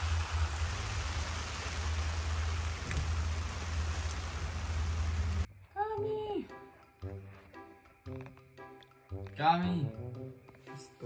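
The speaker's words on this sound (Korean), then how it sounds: "빗소리 들으면서 좀 자" Steady rain hisses for several seconds at an American campground, broad and even, then stops abruptly as a person starts talking.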